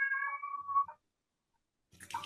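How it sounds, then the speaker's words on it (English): A domestic cat gives one close, drawn-out meow with a short trailing note, followed by a silent pause and then a brief burst of other noise. "That's my cat."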